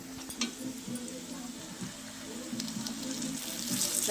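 Marinated goat meat cooks in a hot wok while being stirred, giving a steady, fairly quiet sizzle with soft scraping stir strokes that build slightly louder toward the end.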